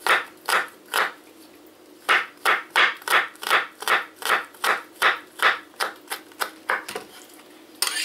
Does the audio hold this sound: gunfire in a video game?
no